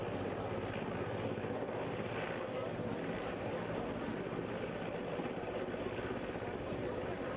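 A rescue helicopter hovers over the flooded Tawi river in Jammu, its rotor and engine making a steady, loud broadband roar that runs unbroken throughout, mixed with wind and rushing water.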